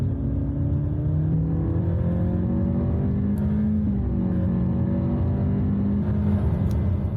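A turbocharged VTEC engine in an Acura Integra pulls under acceleration, a steady loud interior drone with rising harmonic tones that climb through the revs and shift, continuous with no talking.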